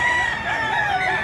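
A rooster in rural Mantalungon, Barili, Cebu crows in one brief, drawn-out call that sounds loud and close.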